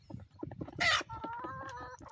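Broody hens clucking on a home poultry farm, a run of short close clucks followed by a loud burst and then a sustained, slightly wavering tonal call, with no voices.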